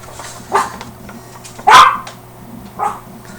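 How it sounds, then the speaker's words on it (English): A dog barks at random indoors, three sharp close barks spaced about a second apart, the middle one loudest, with quiet room hum between. "Our dog just likes to randomly bark at times"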